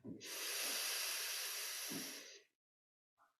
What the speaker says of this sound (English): Breathing in, I know that I'm breathing in.